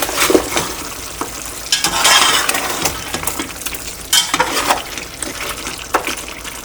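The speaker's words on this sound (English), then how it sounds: "we're going to give it a stir so that it's not sticking at the bottom once again" A spoon stirs beef Kabuli pulao in a pot with loud, close scraping and clattering strokes against the metal. The rough bursts come irregularly over a few seconds.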